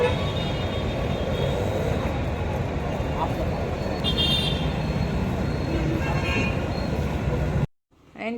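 Road traffic in Maduravoyal, a busy stretch of road with a continuous rumble of passing cars, buses and trucks, a horn toot partway through and a sudden cut to near silence at the end.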